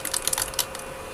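Quick bursts of keystrokes on a computer keyboard while a novel is being written, close and clear, clustered in the first half and then thinning out, with no voices.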